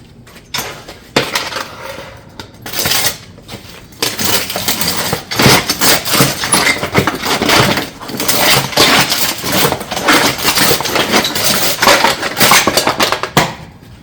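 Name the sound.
cutting and bending metal ridge panels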